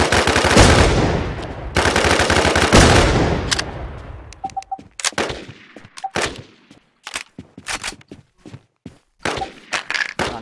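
Infestation video game firefight: a long, loud burst of sustained automatic fire, then scattered single shots and short bursts with gaps of quiet between them, all close and without talk.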